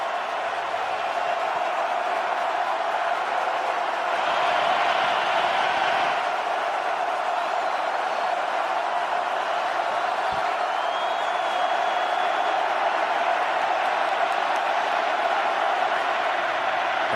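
A football stadium crowd in Kansas City at the AFC Championship Game, Bengals against Chiefs, keeps up a dense, steady roar of cheering that swells slightly in the middle and never lets up.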